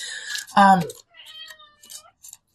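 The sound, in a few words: pet cat meowing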